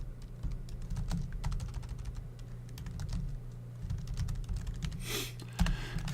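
Typing on a computer keyboard while coding a website, fast irregular clicks of keys close by, quiet and continuous over a low hum, with no one talking.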